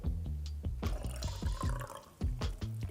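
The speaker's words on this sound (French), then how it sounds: "verse l'huile dans le deuxième bocal et l'eau dans le premier" Water pours into a glass jar in uneven gurgling glugs and splashes, with the pitch of the filling rising and shifting as the level climbs, close and moderately loud with no talk.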